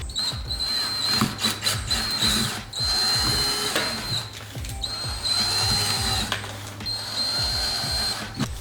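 A power drill whines in several bursts of a second or two each, with short pauses and clicks between, close up and loud, drilling holes in a car's rear valence to fit a diffuser on a Volkswagen MK7 GTI.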